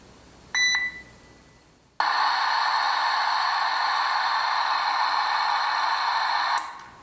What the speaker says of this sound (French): Ça, c'est ce qu'on appelle un bruit blanc.